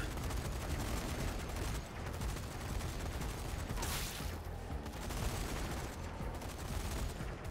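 Rapid submachine gun fire from the Zombie Army 4 video game, dense sustained bursts filling the whole stretch at steady loudness with a brief sharper crack near the middle.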